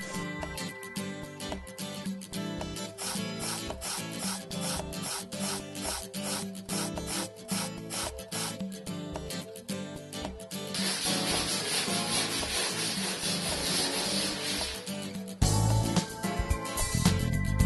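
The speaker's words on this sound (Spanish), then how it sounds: "Y lija la pared con movimientos circulares." Sandpaper is rubbed by hand in circular motions across a wall before painting, a steady rhythmic scratching that turns to a denser continuous rasp near the end.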